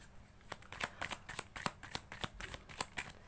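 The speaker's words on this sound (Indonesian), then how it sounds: "Kartunya kita shuffle." Tarot cards are shuffled by hand in a series of quick, crisp riffling snaps and flicks, close and fairly quiet with no talking.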